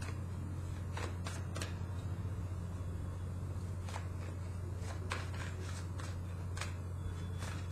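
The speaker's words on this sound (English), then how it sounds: "Now let me draw one more card from this deck." Tarot cards shuffled and drawn from a deck, giving a series of soft, brief papery riffles and flicks spread across the span over a steady low hum, with no talking.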